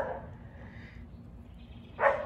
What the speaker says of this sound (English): I don't like barky dogs, but they're doing their job.